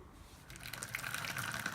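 Hot water for a raspberry Framboise homebrew pours into a plastic cube, a soft trickle that builds into a steady, close gurgling fill.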